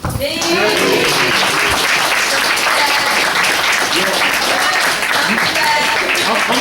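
Loud, dense audience applause that starts abruptly and holds steady, many people clapping at once, close and full throughout.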